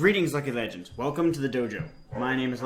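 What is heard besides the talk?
No everyday noises stand out.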